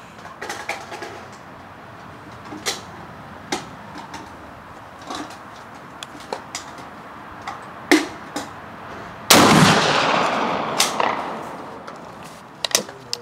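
A Krag-Jorgensen rifle, an 1893 trials example, fires once at a 300 m range: a single loud, sharp report with a long tail, among scattered clicks and handling noises.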